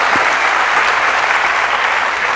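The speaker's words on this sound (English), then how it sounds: "Let's give him applause, please, everybody." Conference audience applauding steadily at close range, a dense continuous clatter of clapping hands filling the whole stretch with no voices over it.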